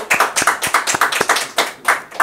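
A small studio audience on a television talk show claps for a guest. The sharp, close handclaps come in an uneven rhythmic patter for a couple of seconds, with no voices.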